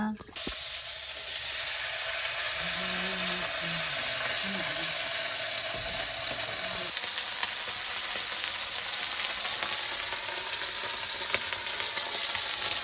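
Loud, steady sizzling of cauliflower frying in a pan, continuous from start to end, with a faint voice briefly audible early on.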